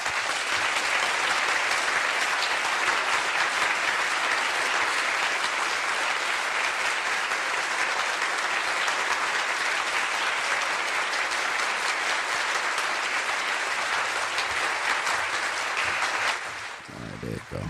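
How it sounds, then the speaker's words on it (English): Recorded applause played at a SharePoint user group meetup: a steady, dense wash of clapping that holds evenly for about sixteen seconds, then cuts off abruptly near the end. "Let me reset that and play some applause while I come back."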